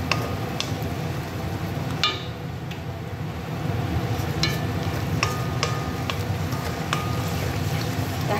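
Ground spice paste for a chicken fry curry is sautéed in a hot wok, a steady close frying hiss running throughout, broken by sharp clicks and taps from a spatula against the pan.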